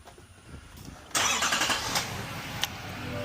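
A Chevrolet 2024 2500HD truck with the L5P diesel engine cranks and fires up, a sudden loud burst settling into a steady close rumble after a quiet start, with no talking.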